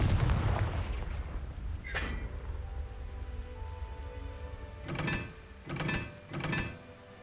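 A Confringo blasting spell explodes in the video game Hogwarts Legacy: a heavy booming blast opens, a sharper crack follows, then three quick thudding explosions come in close succession near the end, with no speech.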